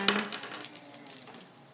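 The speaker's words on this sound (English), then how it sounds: "these are my mailbox keys" A set of mailbox keys jingles and clinks as it is handled, with a bright metallic clatter at the start and faint rattling after, close and quiet, with no voices.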